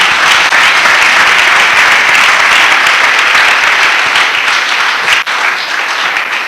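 Loud, dense applause from a church congregation, continuous sustained clapping that fills the room for several seconds.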